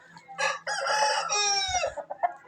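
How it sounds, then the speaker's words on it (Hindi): A high-quality farm rooster crows loudly and close, one long strained cock-a-doodle-doo followed by a few short clucks. "चेक करें जी मुर्गे की मस्ती"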